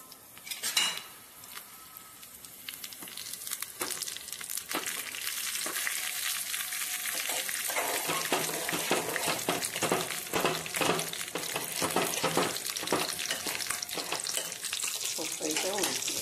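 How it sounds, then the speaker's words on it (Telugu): Cumin and mustard seeds hit hot oil for a lentil curry, a quick clatter followed by a loud, dense, continuous crackling sizzle with a few utensil knocks, steady and close throughout. "జీలకర్ర, ఆవాలు వేపుతాం."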